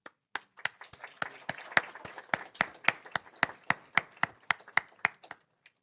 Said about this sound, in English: I want to give a round of applause for Superintendent Maez and her executive te